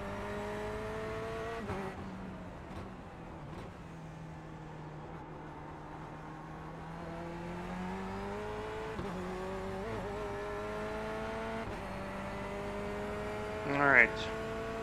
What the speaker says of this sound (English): It might be my engine sound.